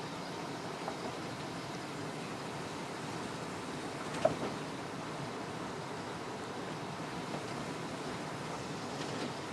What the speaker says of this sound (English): another dark, windy, nasty night.